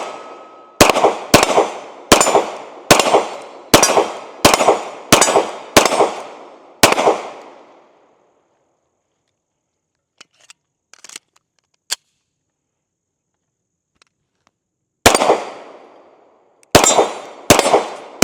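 Sig P320 SXG pistol fired in a quick string of about eight loud, sharp shots, then a pause with faint clicks and handling, then three more shots near the end.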